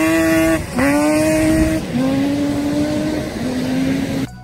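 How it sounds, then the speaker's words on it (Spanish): A Yamaha Banshee ATV, produced in Japan from 1987 to 2012, runs loud and close, its engine pitch climbing steadily, dropping, then climbing again through several gear changes with no voices. "y es la Yamaha Banshee."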